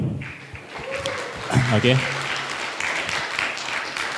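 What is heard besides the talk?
conference audience applause for the speaker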